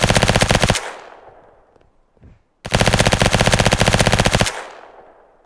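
Machine gun fire in the VR strategy game Brass Tactics: two long, loud, close bursts of rapid evenly spaced shots, separated by a short quiet pause.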